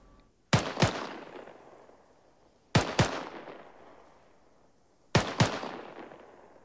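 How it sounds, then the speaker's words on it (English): Three short double bursts of gunfire, two quick shots each, repeat at steady intervals of about two seconds, each followed by a long echoing tail. "Now, a rapid rate of fire"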